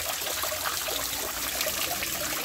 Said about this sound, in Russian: И вода откуда-то тоже течет, да?